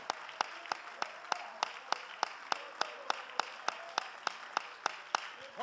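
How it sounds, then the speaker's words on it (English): A church congregation claps hands in an even, steady rhythm, roughly three claps per second, the sharp beats landing together over a faint room background. "All of you believe that, clap your hands and give God praise right now."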